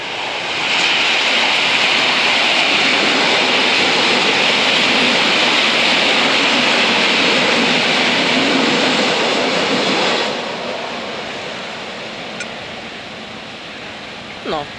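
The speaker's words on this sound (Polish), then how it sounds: "Już pociąg jedzie." A loud, steady rush of a train passing a level crossing on Szymonowska Street in Teresin, Poland, fills most of the clip, then drops off abruptly and fades to a quieter hum with a faint click near the end.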